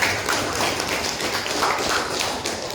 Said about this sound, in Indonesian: kasih aplaus dari kawan kalian